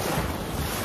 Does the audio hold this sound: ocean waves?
yes